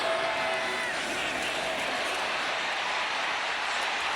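A stadium crowd at a college football game between Alabama and South Carolina roars in a steady, far, broad wash of cheering that holds through the whole stretch.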